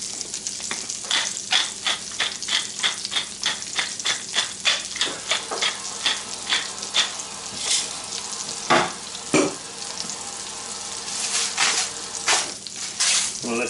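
A burger fries in a pan with a busy, crackling sizzle, broken by the scrape and tap of stirring and handling, close and fairly quiet throughout.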